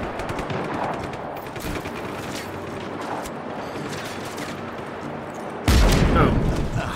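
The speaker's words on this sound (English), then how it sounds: "So they're actually shooting at their own stuff." Sustained gunfire and explosions in the Just Cause video game, with bursts of automatic fire throughout and a loud boom erupting near the end, with talk faintly underneath.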